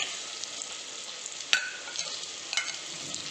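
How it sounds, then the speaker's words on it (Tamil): Tomatoes sautéing in a pan with onions for a spicy crab fry, a soft, steady sizzle with a few sharper clinks and scrapes of a spoon as they are stirred. "தக்காளி நல்லா வதங்கணும்"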